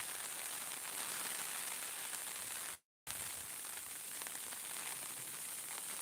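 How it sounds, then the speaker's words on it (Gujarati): Heavy rain pours steadily in the Una Gir area, a dense, even hiss with no voices, broken only by a brief silent gap midway. "ઉના ગીર પંથકમાં વરસાદ બહુ વરસી રહ્યો છે"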